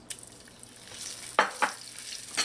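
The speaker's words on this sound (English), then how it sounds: "So before your sesame oil heats up, you're going to put in your ginger." Ginger drops into sesame oil that is just starting to heat, giving a faint, quiet sizzle with a few soft stirring scrapes.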